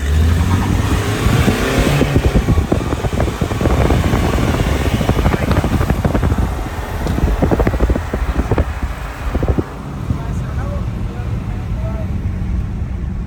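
A Mahindra Scorpio S5 and a Hyundai Alcazar drag racing, loud engines roaring and revving continuously with an automatic gearbox shifting, broadband road and wind noise throughout, and excited voices talking over it.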